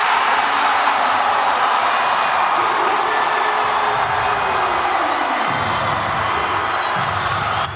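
A packed basketball arena crowd at an MPBL 2023 playoff game between Batangas City and Gensan roars and cheers loudly without a break, a dense wall of shouting and whooping.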